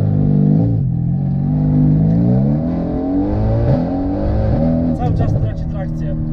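A loud Mercedes-AMG GT R engine, with added nitro, revs and climbs steadily in pitch as it accelerates hard, close up, rising through gears.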